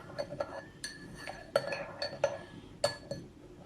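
A spoon stirring detox tea with black pepper in a glass, giving a series of light, bright clinks spaced irregularly over a few seconds, fairly close and clear over faint background noise, with no talking.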